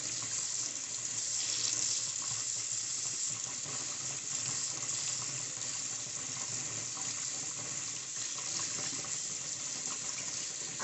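Makeup brushes washed with Dawn antibacterial soap and olive oil under a steadily running tap, a continuous close splashing hiss of water into a sink with no pauses or talk.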